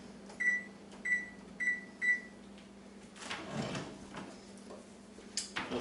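An oven gives four evenly spaced electronic beeps, then a bacon-wrapped meatloaf goes back in with a soft clatter and the thud of the door closing, followed by faint handling noises.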